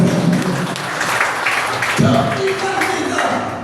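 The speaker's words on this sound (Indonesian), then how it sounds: "Berikan tepuk tangan yang bersama." A church congregation claps together in a dense, sustained round of applause, with a voice talking over the clapping.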